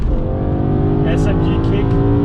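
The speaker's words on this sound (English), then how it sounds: "that second gear downshift was naughty" A loud BMW E60 M5 engine with a carbon plenum roars close by, with a sharp rev blip partway through as it downshifts to second gear, then keeps pulling hard.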